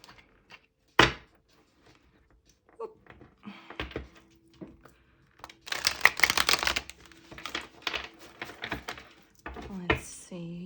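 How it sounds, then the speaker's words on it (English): Tarot card decks shuffled in a run of crisp riffling and slapping card noises, loudest in a dense burst midway, with scattered taps and thumps before and after. "I am going to give them an extra shuffle"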